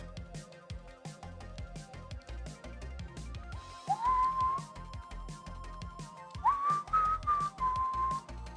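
Two bright rising whistled notes stand out over busy background music, the first briefly held, the second wavering up and down.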